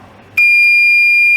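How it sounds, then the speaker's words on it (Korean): Buzzer in a relay control training circuit, switched on by a pushbutton: after a short quiet hum it starts abruptly as a loud, steady, close electronic tone that holds unbroken. "PB 1번을 누르면은 쭉 부저 먼저 울리겠네요"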